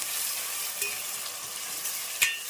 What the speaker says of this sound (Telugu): ఆనియన్స్ అనేది మనకు బాగా మెత్తపడేదాకా మనము ఆయిల్లోనే మగ్గిచ్చేసేయాలండి